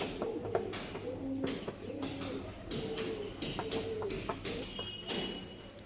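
A flock of ten or eleven home-bred flying pigeons coo in steady, overlapping rolling phrases, close by and moderately loud, with faint clicks and shuffling in the loft.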